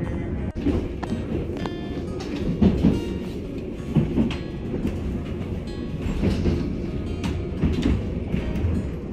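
Riding aboard the Children's Railway, a narrow-gauge train in the hills of Budapest: steady rumbling of the carriage with rhythmic wheel clatter and occasional bumps and rattles.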